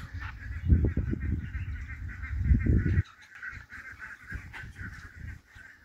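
Frightened turkeys call nearby, with loud, rough low bursts for a few seconds, then a thinner chorus of higher, repeated calls continuing more quietly.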